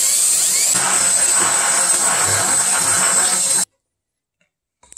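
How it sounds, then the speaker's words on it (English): A power drill boring a hole through material for a homemade vacuum-leak smoke test machine, a steady high whine running for a few seconds close up before stopping abruptly into silence. "So we're going to take our drill again"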